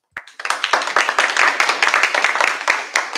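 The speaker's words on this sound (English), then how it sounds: "So let's give them some applause." Audience applause at the opening of a conference keynote, starting abruptly as a crowd of fairly close hands with distinct individual claps, staying steady throughout.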